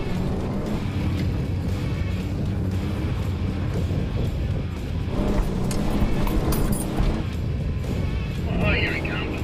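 A 4WD vehicle labours through soft sand with a trailer hitched behind, its engine a loud, continuous low rumble close by, while people talk over it.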